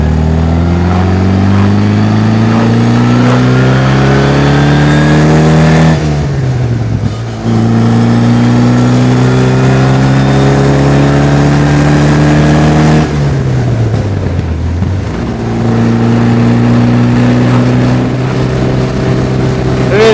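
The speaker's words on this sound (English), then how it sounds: "Sounds pretty awesome with the side pipes and the straight cut gears." A 1956 Austin Healey 100M with side pipes and straight-cut gears roars through its gears, loud rising engine pulls broken by two gear changes, heard from the passenger seat on back roads.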